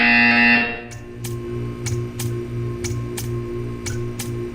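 A loud buzzer in Portal 2 blares briefly, then stops, leaving a steady hum with regular ticking clicks about once every half second.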